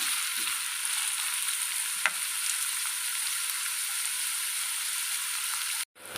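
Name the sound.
onions sautéing and being stirred in a pan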